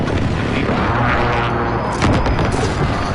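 Precision airstrike explosions rumble in a PlayStation 4 shooter game, with dense, overlapping booms and blasts forming a loud, continuous barrage.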